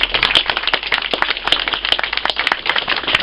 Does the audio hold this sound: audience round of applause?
yes